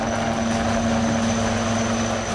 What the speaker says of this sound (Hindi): वो है HAL यानी एडवांस लाइट हेलीकॉप्टर